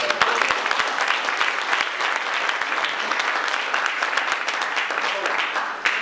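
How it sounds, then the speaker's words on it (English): Audience applause at an award ceremony continues steadily throughout, a thick wash of many hands clapping at moderate volume, heard from some distance. "So it's tough, because there's clapping coming"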